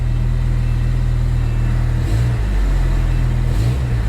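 A BMW M6 convertible engine idles with a deep, close rumble, then the throttle is blipped twice, each rev rising briefly and falling back to idle, loud and without speech.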